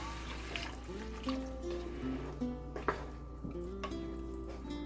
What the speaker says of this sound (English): Now I'm going to add about 2 cups of water.